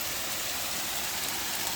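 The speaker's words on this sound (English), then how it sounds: "It's just still hailing." Hail falling steadily during a cold thunderstorm, a dense hissing patter of ice pellets striking the ground and surfaces nearby, continuous and fairly soft, with no voices.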